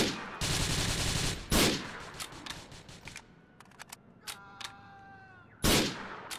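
Gunfire in the video game GTA IV comes as sharp loud bursts of automatic fire, with a long opening burst, scattered single shots and a final burst, all close and with no speech over them.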